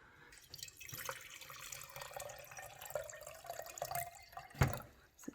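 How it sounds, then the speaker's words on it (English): Water running into a jar for a lava lamp experiment, a soft trickling and dripping stream that varies in level, close and faint, ending in a brief knock. "We need to fill basically halfway with water."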